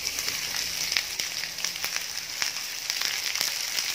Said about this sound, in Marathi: तेल गरम झालेलं आहे, कांदा घालून घेऊया.